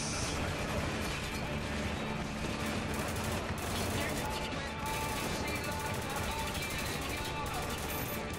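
Rapid bursts of gunfire in the video game Spec Ops: The Line crackle almost continuously, dense and loud, with a voice talking over the shooting.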